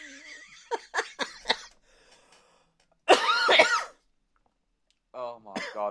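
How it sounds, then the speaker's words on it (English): A man coughs in short rough bursts and then breaks into a harsh, heavy hacking fit, close and loud, with voiced sounds near the end. "That's why I coughed my guts up."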